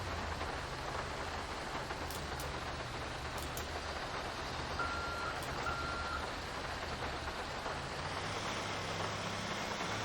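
A police tow truck turning and reversing in GTA 5, with a steady low engine drone and faint intermittent reversing beeps over a constant background hiss.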